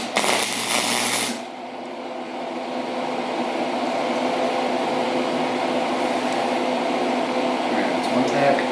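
A flux-core welder laying a tack weld gives a loud, harsh crackling burst for about a second, then falls to a low steady hum with faint background noise.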